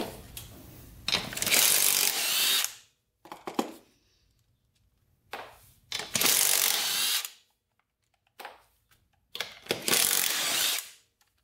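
A ratchet working on the left front wheel of a cheap 4x4 ATV, clicking rapidly in four or five loud, close bursts of a second or two each, separated by silent pauses, with no talking.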